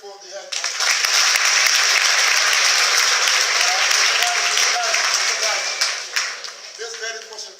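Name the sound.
students clapping for the head teacher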